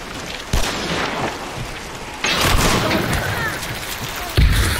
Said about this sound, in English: I got hit by a bomb next